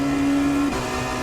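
Dallara P217 LMP2 prototype engine at Watkins Glen in iRacing holds a steady high drone, then drops pitch abruptly in a quick downshift, and runs on slightly quieter, with no voices.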